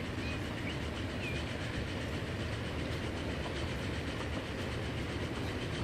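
Trains roll along rails in the Transport Fever video game, a continuous dense rumble with rhythmic clickety-clack and faint high squeals, steady and moderately loud with no talking.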